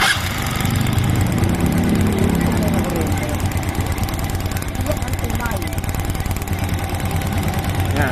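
A Honda TMX Supremo motorcycle engine fitted with a CDI runs steadily at idle, a loud close chugging drone with a fast regular pulse and faint talk partly underneath.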